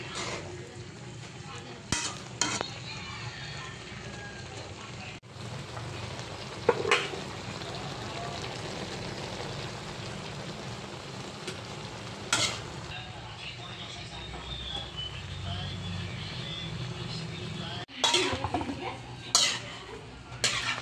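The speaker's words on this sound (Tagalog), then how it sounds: "Luto na ang ating gulay na sayote." Chayote being sautéed in a pan, a steady sizzle and frying hiss with occasional sharp clinks of utensils against the pan over about twenty seconds.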